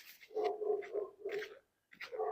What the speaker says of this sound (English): The dog barking at me.